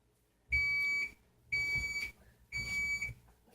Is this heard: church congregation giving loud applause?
no